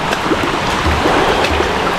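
A river on Guadeloupe flowing steadily, a dense close rush and burble of water with constant splashing and no pauses.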